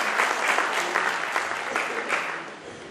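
An audience at a Solapur teachers' award ceremony claps loudly and steadily, a dense, even applause that slowly fades over a few seconds.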